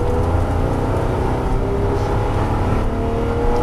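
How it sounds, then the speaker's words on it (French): A Porsche GT3 accelerating hard down a straight at the Circuit JP Beltoise racing track, a loud sustained engine roar with a steady droning pitch, heard from close by without pause. "Tu es en ligne droite, tu peux accélérer franchement"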